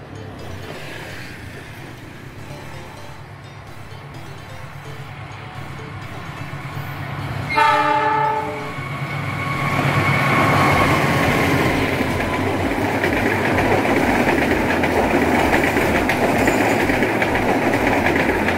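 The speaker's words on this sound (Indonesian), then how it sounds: "Berikutnya kereta Argo Parahyangan." An Argo Parahyangan passenger train passing a station in Bandung, Indonesia, sounds a loud horn blast, then a steady roar of wheels and engine close by that holds for the rest of the pass.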